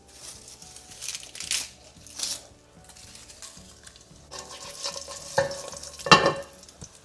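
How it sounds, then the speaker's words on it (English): Cardamom pods, cumin seeds, chilies and curry leaves sizzling in hot oil in a single pan, with bursts of spitting and crackling, a sharp pop near the end and a spoon knocking against the pan, no speech. "Just let everything sizzle"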